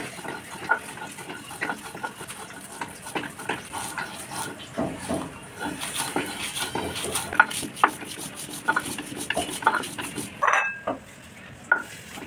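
Fried dried chepa shutki fish being ground with salt on a stone grinding slab, close rhythmic scraping and knocking strokes with uneven gritty rubbing.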